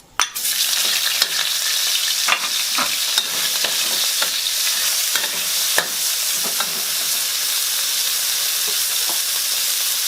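Garlic stir-fried in oil in a pan, with a loud, continuous close sizzle and occasional spatula scrapes and taps through the whole stretch, no voices.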